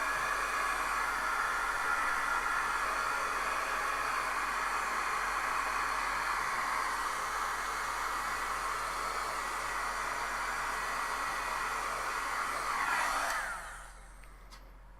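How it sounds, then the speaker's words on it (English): Heat tool blowing steadily to dry ink on a handmade card, a loud continuous airy whoosh that runs for about thirteen seconds, then cuts off as the tool switches off. "we'll hit a little bit with the heat tool here just to dry it."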